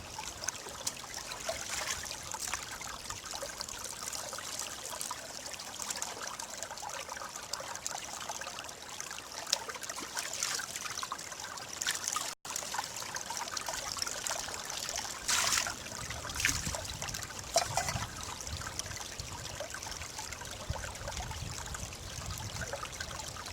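Water trickles in a thin, steady stream into a canteen cup, soft and continuous, with a light splashing patter and no voices.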